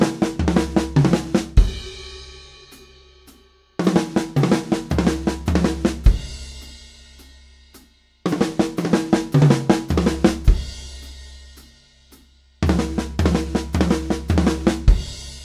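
Drum kit plays the Herta sticking in a groove with the two fast notes shifted off the snare onto other drums, four repeated bursts of quick hits with kick and cymbal, each ringing out before a short gap.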